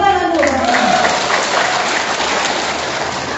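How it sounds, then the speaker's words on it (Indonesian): Steady applause from a crowd at a village health campaign event in Indonesia fills the clip, a dense even patter of many hands clapping, with a voice trailing off at the very start. "Ya, tepuk tangan dulu."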